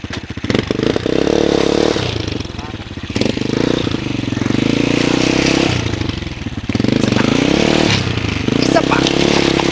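A motorcycle engine idles and revs loudly and close by during a moto-camping trip at the Mangatarem River, with the pitch rising and falling as voices talk over it.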